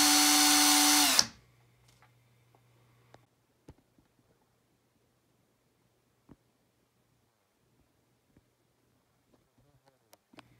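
A power drill winding coil wire whirs loudly for just over a second, then cuts off, leaving near silence with a few faint scattered clicks and taps.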